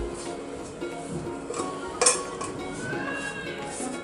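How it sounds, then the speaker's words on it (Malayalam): A utensil mashes cooked tapioca with egg in a pan for thattukada-style mutta kappa, giving soft scraping and clinking against the metal, with one sharp knock midway. "മുട്ടയും ചേർത്തിട്ട് നന്നായിട്ട് ഇത് ഉടച്ചു കൊടുക്കണം"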